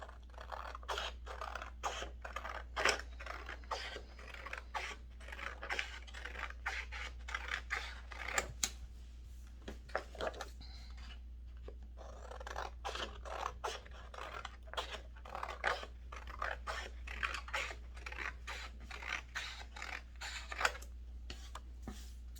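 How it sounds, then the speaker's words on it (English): Scissors snip through paper in quick, irregular bursts of crisp cuts while shaping cone paper beads by hand, close up, with short pauses between runs of cutting. "I get shaky and I can't get my scissors on the line"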